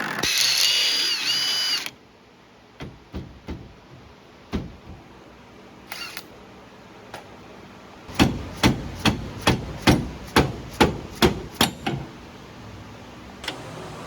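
A power impact tool rattles off a wheel nut on an Arctic Cat Wildcat 1000 during front wheel bearing work, with a loud opening burst followed by a string of sharp, closely spaced impact bursts up close.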